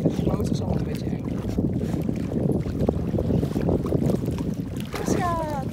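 A boat motor running as a low, steady rumble under wind noise, loud and close throughout, with a brief higher whine near the end.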